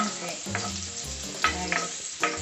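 Ginger frying in hot oil until lightly browned, a close, dense sizzle with a few stirring knocks against the pan, heard alone.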